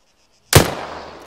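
A single sharp gunshot from the tactical shooter Arma 3 cracks out of silence, loud and close, followed by a brief decaying echo tail.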